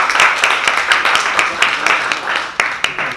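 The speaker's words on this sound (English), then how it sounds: "give them a clap" A Year 1 class claps for pupils during a school science lesson: a short burst of quick, close, uneven hand claps, with some voices mixed in.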